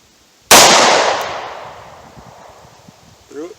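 A single loud, close revolver shot of a Winchester Super X 125 grain +P load fired into wood, a sharp crack with a long decaying tail, followed by a faint brief voice near the end.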